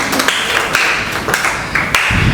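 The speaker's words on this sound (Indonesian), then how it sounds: "Kasih aplaus temannya lagi." A classroom audience claps for a classmate after a camera movement demonstration, a brief dense patter of hand claps with a few louder slaps, close and steady across the whole moment.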